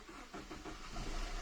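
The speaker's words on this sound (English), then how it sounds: "Here to the diesel clatter, the clatter which is like the melody for the ears" A 2007 Suzuki Swift DDiS diesel car engine running with a low, rough clatter, heard close and steady for over a second with no talking.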